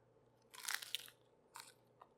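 A crunchy keto sandwich made with cheese in place of bread is bitten close to the ear: one loud crackling crunch, then two softer crunches of chewing, with no talking.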